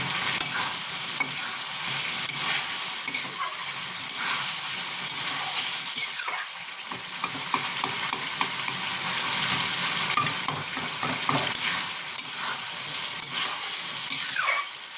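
Potatoes and spices sautéing in a pan, with a steady loud sizzle and hiss joined by repeated scraping and stirring strokes of a spatula, with no voices.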